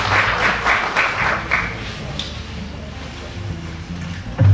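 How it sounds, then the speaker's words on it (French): Applause from an audience at a book dedication ceremony at the Musée des civilisations noires, a dense burst of clapping that swells and then fades out, with a voice briefly heard near the end. "Sous vos applaudissements, s'il vous plaît"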